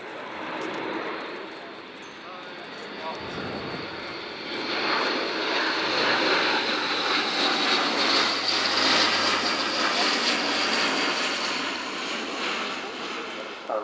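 Engines of an Airbus A400M Atlas turboprop transport aircraft at an air show, a steady loud drone that swells midway, with a commentator talking over it.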